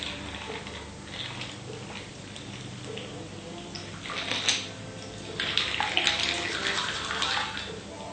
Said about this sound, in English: I'm just going to strain this into a nice little pipette I've got here